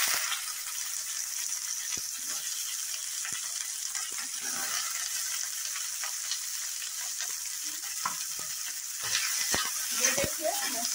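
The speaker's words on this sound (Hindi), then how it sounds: "ये देखिए मैं प्याज को भून रही हूँ।" Onions frying in oil in a kadai for a Bihari-style green chickpea dish, giving a steady high hiss with occasional stirring clacks and scrapes.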